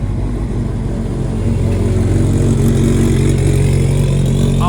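A loud, close Kimera 037 rally-style car engine at a concours event in Italy, holding a steady throaty idle before the revs swell and build toward the end.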